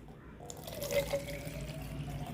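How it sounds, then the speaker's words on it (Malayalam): Boiled and cooled water is poured into a bottle, making a soft, steady trickle of liquid that rises faintly in pitch as the bottle fills, with no talking over it. "ഇനി ഇത് നമുക്കൊരു കുപ്പിയിലേക്ക് ഒഴിച്ചു വയ്ക്കാം"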